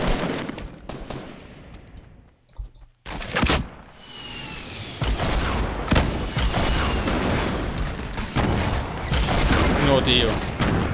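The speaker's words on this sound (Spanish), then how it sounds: "Tiro." Fortnite gunfire in a duo match: a brief dip to near silence, then heavy bursts of rapid automatic shots and booms crowding together, loud and close, with players talking over the shooting.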